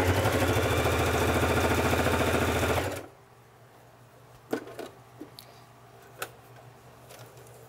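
A Singer Heavy Duty sewing machine stitches through three layers of leather, a loud, steady mechanical run for about three seconds that stops abruptly, followed by quiet room tone with a few faint clicks and taps.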